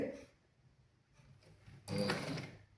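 A sewing machine stitches fabric in a short close burst, quiet mechanical whirring at first and then a louder, denser run of rapid needle clatter near the end.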